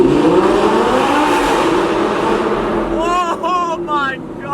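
V10 Audi R8 with a full Capristo exhaust revving inside a tunnel, a loud echoing engine roar that rises and falls in sharp blips toward the end, with a voice talking over it.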